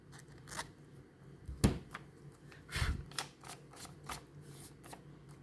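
Scissors snip through excess clear acetate for a handmade shaker card, giving a few separate crisp cuts with soft paper rustling between them, close and fairly quiet.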